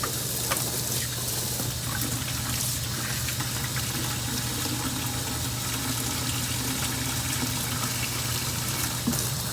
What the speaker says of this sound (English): I'm just going to use the bucket to give these things just a quick cursory rinse out here